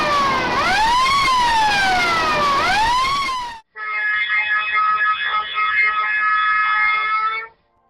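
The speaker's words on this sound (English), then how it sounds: "These are the alarms in case of fire." A drilling site fire alarm: a loud wailing siren sweeps up and down, then cuts to a steady, harsh electronic alarm tone that holds for several seconds.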